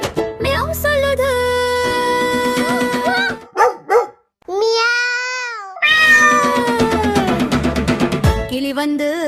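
In a Tamil children's song, a cartoon-like cat meow is heard among bright synthesized music and sung melody, with barking-like yelps mixed in, loud and close.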